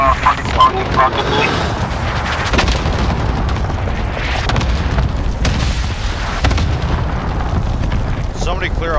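Cluster strike explosions in an online shooter game, a dense, continuous barrage of loud booms and bursts rolling on for several seconds, with players talking over the din.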